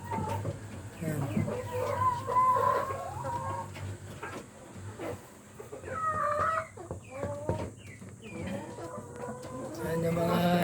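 Roosters and hens in breeder cages on a small hobby farm cluck and crow repeatedly at close range, with a steady low hum underneath and someone talking over parts of it.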